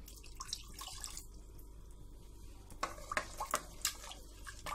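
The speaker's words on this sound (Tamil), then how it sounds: "இப்போ இதில் நான் 1 கப்பு பால் ஊற்றிடுறேன்" One cup of milk is poured into cooked beetroot paste in a pan for beetroot halwa. A soft, continuous liquid trickle is heard up close, with a few small splashes and drips near the end, and no talking.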